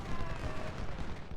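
Musket gunfire from an Ultimate General: Civil War battle at Chickamauga, a dense, continuous rattle of distant volleys that fills the whole moment at a steady, moderate level.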